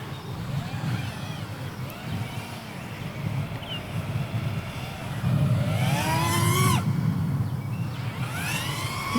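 An FPV freestyle drone climbing higher, its motors whining in sweeping, rising and falling pitches that grow loud in a close burst near the end, over steady outdoor background noise.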